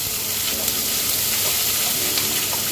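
Chopped garlic and ginger-chili paste sizzling in hot oil in a pan, a loud, dense, continuous sizzle heard up close, with no talking.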